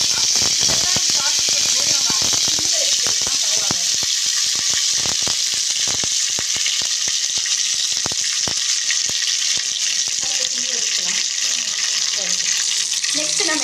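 Curry leaves crackle in hot oil with cinnamon and cloves for an egg gravy, a loud close sizzle full of sharp pops, while someone talks over the frying.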